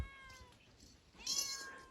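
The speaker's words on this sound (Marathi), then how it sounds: "हे आपली मांजर." A farm cat gives a couple of short, close meows, the second brighter and louder than the first, with no talk around them.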